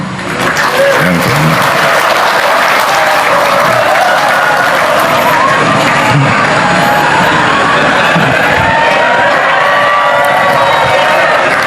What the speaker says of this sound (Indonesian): Tepuk tangannya kok panjang banget.